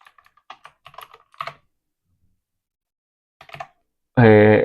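Computer keyboard keys clatter in two quick bursts of typing with a pause between, close and crisp, before a voice starts speaking at the very end.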